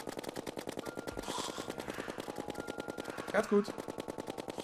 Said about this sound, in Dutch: Ik blijf weer gewoon schieten